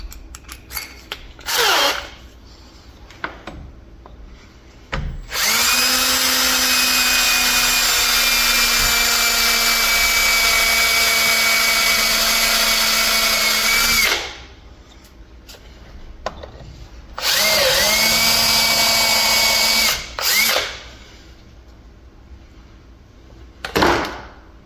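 A power drill bores out a broken ABS sensor seized in a truck's hub, running in two long sustained bursts with a steady whine and a few short blips between them, loud and close with no talk.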